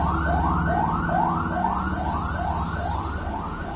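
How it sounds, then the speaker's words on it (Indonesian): A rapid yelping ambulance siren cycles quickly and steadily over a heavy engine rumble, loud and close throughout. "ada ambulan lewat"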